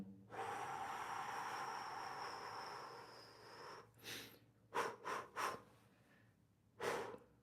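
A long, drawn-out exhale while folding deeper into a lower-body stretch, followed by several short, sharp sniffing breaths and a final quick inhale, close and soft.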